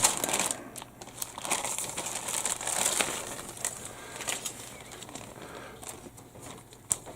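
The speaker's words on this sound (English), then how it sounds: "It's like one bag of stuff. Resealable bag." A resealable plastic bag of parts for a 1/48 scale Model 239 Buffalo model kit is handled close up, with irregular crinkling and crackling rustles that come in bursts.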